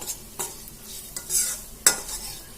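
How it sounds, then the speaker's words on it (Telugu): Bitter gourd curry with garlic is stirred in a pan over a soft sizzle. Several sharp utensil scrapes and knocks come close by, with one loud stroke near the end and no talking. "ఇప్పుడు ఒకసారి మొత్తం మంచిగా కలిపేసుకొని మూత పెట్టేసుకొని"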